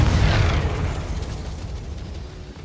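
Confringo spell exploding in the Hogwarts Legacy video game, a loud burst at the start that rolls into a deep, rumbling decay fading over a couple of seconds.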